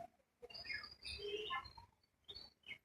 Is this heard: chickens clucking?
no